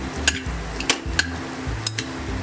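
Cowpea usal is sautéed in a pan, with sharp metal spoon scrapes and clinks against the pan at an irregular stirring rhythm over a low sizzle.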